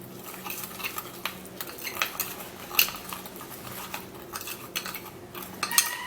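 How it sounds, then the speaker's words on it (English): A spoon clinks and scrapes in a small bowl while an aloe vera skin mixture is stirred together, producing irregular light taps and rattles, close by and fairly quiet, with no talking. "now the next thing is to stir this ingredient together"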